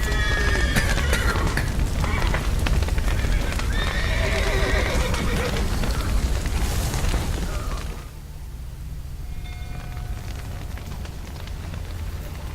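In The Witcher 3 video game, horses neigh and whinny repeatedly over pounding hooves and a dense rumble of crackling and bursts, loud and continuous before easing off slightly.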